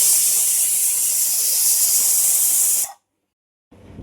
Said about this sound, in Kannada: ಈಗ 2 ವಿಸಿಲ್ಗೆ ಮುಚ್ಚಿಡ್ತಾ ಇದ್ದೀನಿ. ಎರಡು ವಿಸಿಲ್ ಆಗಲಿ